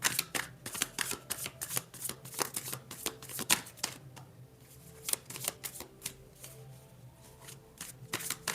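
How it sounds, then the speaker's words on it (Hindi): Tarot cards are shuffled close up in quick bursts of crisp riffling and slapping, pausing and resuming several times. "last shuffle"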